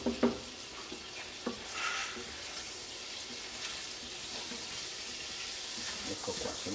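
Pig intestines cooking in a pan with a splash of water give a steady close sizzle and bubbling hiss, with a few soft stirring clatters near the start.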